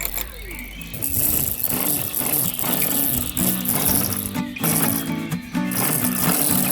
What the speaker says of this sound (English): When the TruEdge trimmer activates, the sound definitely increases, which is expected.